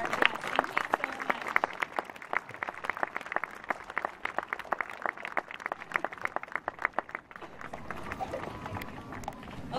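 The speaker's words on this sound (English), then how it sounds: "Let's give another dolphin clap for our guests." Schoolchildren at an elementary school Memorial Day tribute give a rhythmic group clap for guests, a fast train of sharp, even claps repeating for several seconds before loosening into scattered clapping and faint voices.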